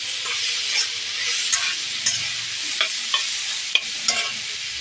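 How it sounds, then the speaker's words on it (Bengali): Soybean chunks fry in oil in a pan, a dense, close sizzling hiss broken by regular scraping knocks of a spatula stirring them, about one sharp clack per half second, with no talking. "খুব সুন্দর করে ভেজে নিতে হবে এটাকে"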